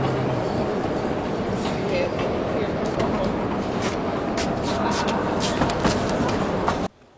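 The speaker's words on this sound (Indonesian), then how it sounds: "Suasana di stasiun kereta api Amtrak Philadelphia." Busy ambience at the Amtrak station in Philadelphia: a low rumbling drone with scattered clanks and murmuring voices in the background, then an abrupt cut near the end.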